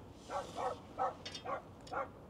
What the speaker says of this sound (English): Yay, yappy dogs.